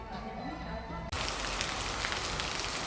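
Heavy rain in France pours down on a loud, steady, dense hiss that starts abruptly and fills the space outside a shoe shop.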